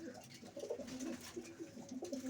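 A pigeon hen sitting close by gives a soft, repeated cooing in low throaty phrases that keep going throughout, with no talk over it.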